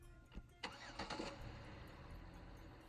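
A car engine sounding like a Chevrolet Impala cranks in a few quick starter bursts, then catches and settles into a low, fairly faint idle.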